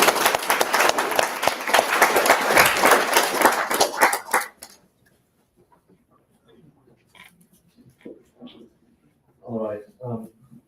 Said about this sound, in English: please give a huge round of applause for Jan